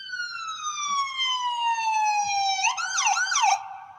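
An ambulance siren wails loud and close as the vehicle arrives at Jackson Memorial hospital, a long falling tone that switches into a rapid rising-and-falling yelp near the end, with no voices.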